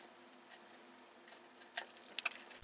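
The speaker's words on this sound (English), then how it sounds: "So I'm going to cut out that window, and I'm gonna do it twice." Scissors snip through paper to cut out a small window, giving faint, sparse cuts that build into a few crisper snips near the end in a quiet room.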